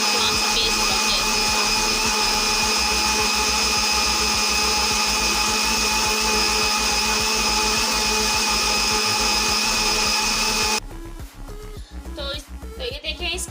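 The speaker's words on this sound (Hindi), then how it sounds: "अच्छे से इसे ब्लेंड करना है ताकि इसके अंदर कोई लम्स ना रहे।" A kitchen blender whirs loudly and steadily while pureeing loquat pulp into juice, a continuous motor drone with a slightly pulsing low rhythm, then cuts off near the end and leaves quieter handling sounds.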